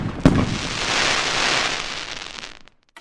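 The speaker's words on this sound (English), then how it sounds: "People around the world have long used fireworks to celebrate." A firework bursts with a sharp crack, then crackles and sizzles in a long hissing shower that fades out after a couple of seconds.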